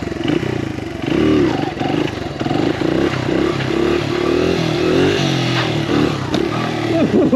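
A 2002 Honda XR100R dirt bike, converted to street legal, idles and revs nearby with a loud, steady, buzzy single-cylinder drone that rises and falls slightly throughout.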